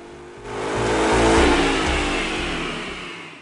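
A 2011 Mustang GT V8 on a dyno with a BBK throttle body revs up hard into a loud, sustained roar, holds near peak, then eases off, with a whirring rush of airflow throughout.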